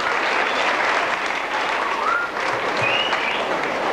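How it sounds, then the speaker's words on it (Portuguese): An audience applauds teachers at a graduation ceremony, dense sustained clapping filling the space evenly from start to finish, with a few faint whistles rising above it. "vamos dar uma forte salva de palmas para eles"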